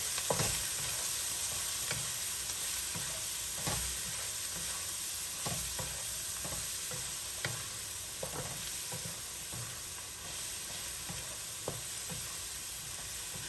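Palabok sauce is stirred in a hot pan, with a continuous frying sizzle under repeated close spatula scrapes and knocks against the metal, steady and fairly loud with no talking.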